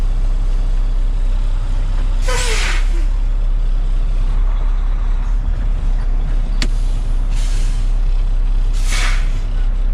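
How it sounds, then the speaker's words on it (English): A loud idling tractor-trailer engine drones throughout, with a few sharp hissing bursts of air brakes, including one sudden short release of the trailer brake during an in-cab inspection. "I release the trailer brake and leave the tractor brake engaged"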